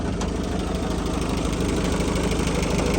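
A 2005 pickup truck engine idles steadily and smoothly up close, a continuous even rumble with no voices over it.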